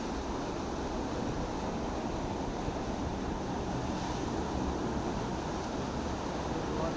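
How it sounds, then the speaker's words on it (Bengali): Water rushing through the shutter of a DVC canal lock gate at Pandua, Hooghly, a constant broad roar with no breaks, steady and fairly loud throughout. "এই ঢাকনাটা যখন নামিয়ে দেয় তখন এই যে পানিটা যাচ্ছে এই পানিটা বন্ধ হয়ে যায়"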